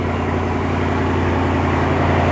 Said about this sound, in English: my car is so loud